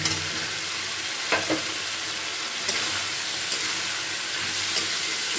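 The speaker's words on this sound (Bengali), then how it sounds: "একটু ভালো করে নাড়াচাড়া করে নিচ্ছি" Fried potatoes stirred into a sizzling tilapia fish curry masala in oil, a dense continuous frying hiss with a few soft scraping stirs, close and fairly loud throughout.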